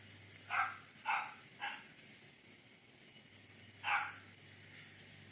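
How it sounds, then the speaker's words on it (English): A female dog barks four times at a distance, three quick barks followed by a single one after a pause, fairly faint against a quiet background hum. "She's just barking a lot."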